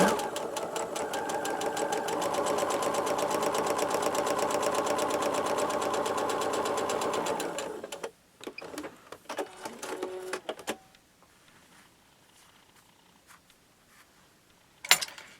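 A sewing machine stitches quilt fabric steadily for about eight seconds with a rapid mechanical rhythm, then stops, leaving a few clicks and handling noises.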